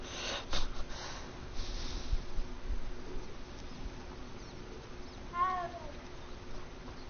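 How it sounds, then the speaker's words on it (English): Cat in Hogwarts Legacy gives a single short, rising meow near the end, preceded by soft snorting and sniffing over a quiet game background. "I gotta stop and pet the cat."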